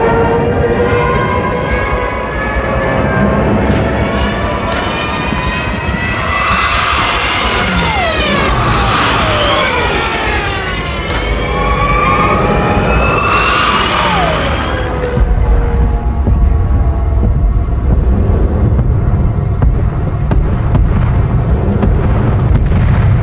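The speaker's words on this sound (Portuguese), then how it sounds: "Reparem só o som desses caças, reparem só o som desse bombardeio." Fighter planes whine and sweep overhead in a World War II beach bombing scene from the film Dunkirk, with rising and falling engine tones and heavy booming blasts, loud and continuous, in cinema sound.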